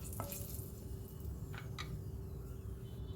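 Whole cumin seeds sizzling in hot oil in a pan while making a pumpkin and Gobindobhog rice dish, a steady close crackle with a few sharper pops and light stirring, no voices.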